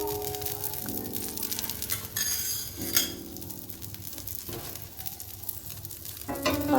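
A soft, steady sizzle of oil on an oats dosa in a pan, fairly quiet, with occasional light clinks of utensils and a few brief tonal kitchen sounds over it.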